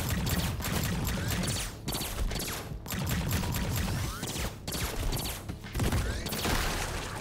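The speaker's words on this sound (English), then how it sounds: "I think I'm dodging like all her shots." Enemy gunfire in the video game High On Life, rapid bursts of shots and mechanical clatter repeating in volleys with short gaps, layered with game effects.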